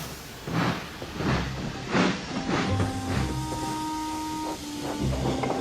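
Thomas the steam engine chuffs slowly, with regular soft bursts of steam over a steady hiss, and a faint whistle tone holds in the middle of the sound.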